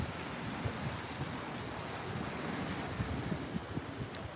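Atlantic Ocean surf washes steadily onto the beach at Deerfield Beach at sunset, with wind buffeting the microphone throughout.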